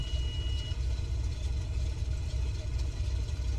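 A Cessna 206H piston engine idles steadily while warming up in a flight simulator, a constant low rumble with a faint high whine, loud and close with no talk.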